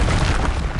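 A Confringo blasting curse explodes in Hogwarts Legacy, a loud, dense burst of broadband blast noise with a heavy low rumble, lasting under a second.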